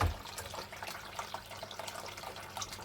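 Water trickling and splashing steadily through a Flower Gold Wizard micro sluice during a gold panning session outdoors, a continuous mid-level wash with small drips and gurgles and no talk.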